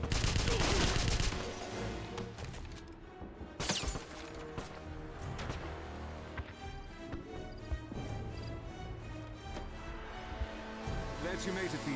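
Gunfire in the PC game Wolfenstein (2009) crackles in a busy battle scene, with bursts and single shots scattered throughout, mixed with in-game voices shouting and general combat clatter.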